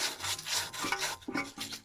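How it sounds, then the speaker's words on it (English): Sandpaper rubs back and forth inside the front ball joint bore of a 2000–2006 Honda Civic, giving a close scratchy scraping in short uneven strokes with no talking. "Now we'll give it a little clean up with sandpaper"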